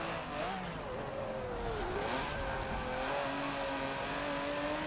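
An Aston Martin's engine in the Forza Motorsport 7 racing game, revving in a continuous loud drone that rises and falls in pitch as it accelerates and shifts, with a faint tire squeal.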